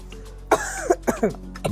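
Several harsh coughs in a row, a couple of sharp bursts then a few shorter ones, close by with no talking.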